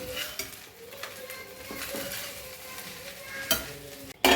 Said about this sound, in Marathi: छान या खिचडीला ना तडका दिला